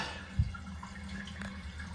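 A Roca toilet cistern on a Grohe frame fills with water, a faint, steady trickle and hiss running throughout, with one brief soft knock near the start.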